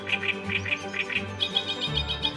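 Grassland birds chirp in a steady run of short, high tweets, about a dozen calls in quick succession, with a low background hum beneath; no voices.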